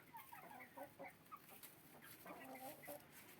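Naked neck chickens rummage in fresh straw, giving soft, scattered clucks and low rustling that stay faint and somewhat distant throughout.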